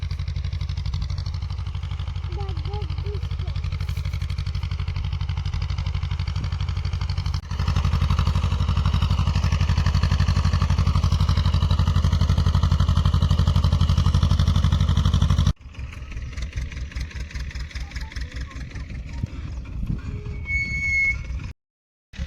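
A steady, loud tractor engine drones throughout with a low rumbling hum during maize sowing in a field, shifting in tone partway through and cutting out briefly near the end.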